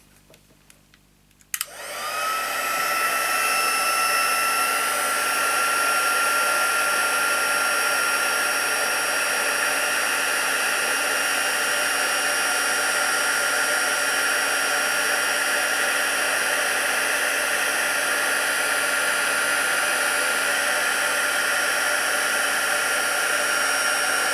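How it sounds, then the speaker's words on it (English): A heat gun used for card making switches on with a click and then blows hot air in a loud, continuous roar that lasts to the end, with no talk. "Now I'm just going to use my heat gun here."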